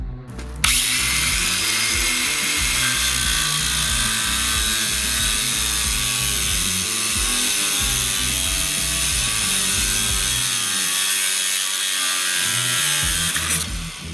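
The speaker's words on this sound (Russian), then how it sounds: "за 10 секунд болгарка без особого труда справилась с замком." A DEKO DKAG20-125 cordless angle grinder cuts through an old Soviet padlock with a 10 mm shackle, a loud, continuous high whine with a grinding, chattering rasp, close up and uninterrupted for about thirteen seconds before dropping off.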